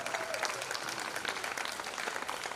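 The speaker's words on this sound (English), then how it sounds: "let's give Chancellor Fairley a round of applause" Applause from an audience at a school hospitality and tourism academy event for Chancellor Fairley: a steady, even wash of clapping held at moderate, somewhat distant level throughout.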